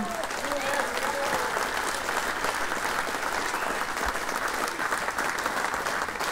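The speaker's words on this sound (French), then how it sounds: "applaudissements pour Simon." Audience applause at the 2022 Golden Globe Race prize giving, a steady, dense wash of clapping from a crowd that holds at even loudness throughout, with a faint voice briefly audible near the start.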